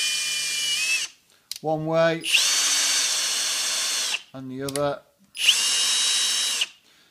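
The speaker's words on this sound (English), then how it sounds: "I use my drill just to go gently" A power drill lapping the valves of a 1940s John Deere B tractor engine whines in three bursts, each a steady high hum, with someone speaking between the runs.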